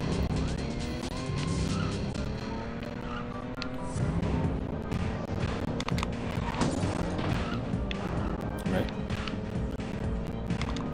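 Arcade-style car racing from the N64 game Cruis'n World, with revving engines, tire squeals and crash impacts running continuously under a voice talking throughout.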